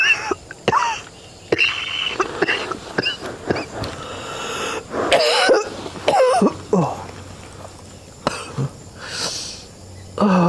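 A person coughs and clears their throat in a series of harsh, irregular bursts, some short and sharp, others longer and rasping, close up, with quiet gaps and some strained vocal sounds between them.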